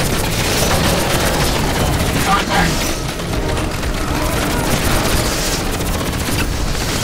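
Rifle gunfire in the Crysis video game, continuous loud bursts of shots and booming impacts that barely let up, with voices talking over the din.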